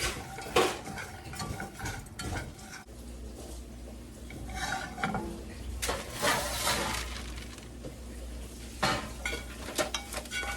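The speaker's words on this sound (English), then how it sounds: "The sugar's starting to melt. Throw in the pecans." Pecans stirred into melting sugar in a pan, giving repeated scraping and clattering of a utensil against the metal, with sharp crackly clinks scattered throughout the short stretch.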